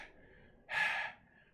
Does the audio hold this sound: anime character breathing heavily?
yes